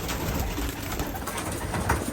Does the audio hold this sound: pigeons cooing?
yes